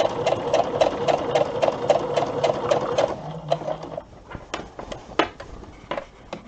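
A sewing machine stitches fabric with a zip front for a Tami garment, running in a rapid even chatter for about three seconds, then slowing into scattered separate clicks and thumps, close and without talk.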